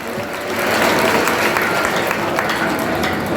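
An audience at a Run For Unity closing ceremony in Uttar Pradesh applauding loudly, a dense steady clapping that holds without a break.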